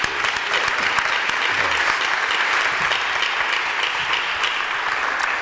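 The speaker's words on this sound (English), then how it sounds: "Can we just give them a round of applause?" A room full of people applauds steadily inside a Baptist church at an MLK Unity Day gathering, a dense, even clapping that carries on for several seconds with a few sharper claps standing out.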